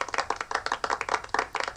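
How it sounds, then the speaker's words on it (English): A handful of people give a quiet golf clap, a light, steady patter of soft claps at close range with no voices over it. "Give that golf clap"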